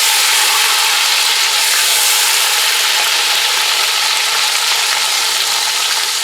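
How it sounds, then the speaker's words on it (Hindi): Steady, loud sizzling of chicken frying in hot oil, a continuous crackling hiss that fills the whole stretch without pause. "तो यहाँ पर हमने इसको चिकन का इसका तड़का दे रहे हैं।"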